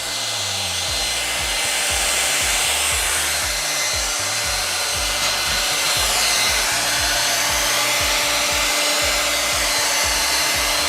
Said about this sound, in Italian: quindi ora per bloccarlo usiamo il phon